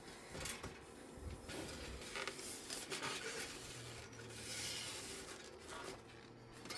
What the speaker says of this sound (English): Just giving it a wipe over with a damp cloth.